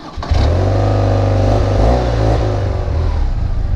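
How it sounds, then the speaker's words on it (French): A BMW R12 boxer-twin motorcycle fires up close by and settles into a loud, throbbing idle, then revs and drops back with a deep, uneven pulse. "au démarrage, la machine s'ébroue. Boxer oblige"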